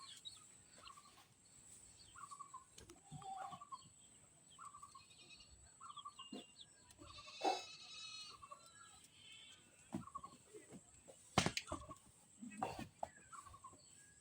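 A newly bought goat bleating in short repeated calls spaced a few seconds apart, fairly faint and close-by in a quiet rural yard, with scattered bird or fowl sounds and a few sharp knocks between the calls.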